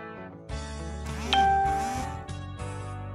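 A notification bell chime rings out over a bed of music, bright and clear with a ringing tone and a sliding pitch, fairly loud and near, with no speech over it.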